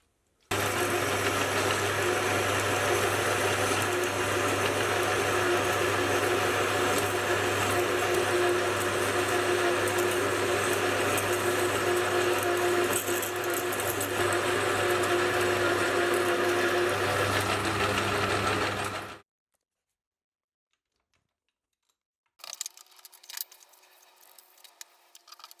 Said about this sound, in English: I'll come in with a boring bar and start to make the recess.